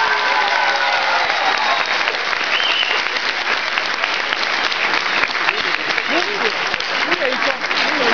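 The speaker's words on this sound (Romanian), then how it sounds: "vă rog să-l aplaudați din tot sufletul" A concert crowd applauds a musician in a long, steady wash of dense clapping, loud and sustained throughout, with faint voices mixed into the crowd noise.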